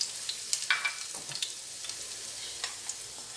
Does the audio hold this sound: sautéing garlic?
yes